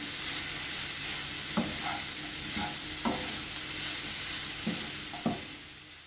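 Grated vegetables sauté in a pan with a soft, steady sizzle, punctuated by several distinct scraping stirs of a spatula at irregular intervals, close and fairly quiet.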